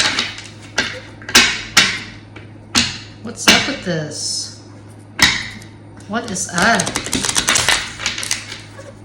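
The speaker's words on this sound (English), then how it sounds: "I'll do a good hard shuffle." Sharp, snappy riffles and flutters of a stiff deck of cards being shuffled hard in quick bursts, with a voice briefly talking between them and a dense rapid riffle near the end.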